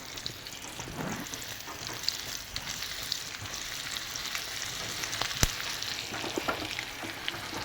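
Garlic, ginger and green chili frying in oil for an egg curry, a quiet continuous sizzle with light crackling pops and stirring, no voices.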